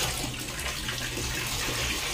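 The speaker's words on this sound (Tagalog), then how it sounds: "water nga tubig ang atong gibutangan sa atoang labhat" Water pours steadily into a laundry basin for hand-washing clothes, a close, continuous rushing splash with no voices over it.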